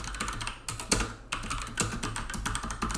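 Mechanical keyboard with Otemu brown switches being typed on, a fast, close run of dense clicky keystrokes in uneven bursts with no talking.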